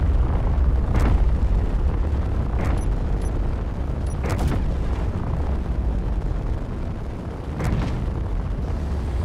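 Ship weapons firing during a Space Engineers capital ship combat test, several separate booming explosions spaced a few seconds apart over a steady low rumble.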